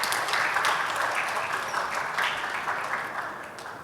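Applause for a presenter at the AVISOC 2022 awarding day, a steady wash of clapping from an audience that gradually fades near the end.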